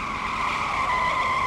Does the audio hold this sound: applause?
no